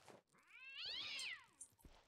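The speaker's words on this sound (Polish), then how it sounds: "Serio ma dźwięki kota?" A hydrolisk monster in a video game giving a cat-like meow, one drawn-out rising and falling cry, close and clear, with faint clicks around it.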